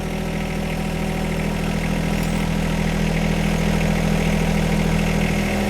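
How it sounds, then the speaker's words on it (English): A John Deere 1025R compact tractor with a front loader idles in neutral, its engine producing a steady, loud, continuous low drone with even vibration and no break. "Throw the tractor into neutral now that we've made contact with the loader."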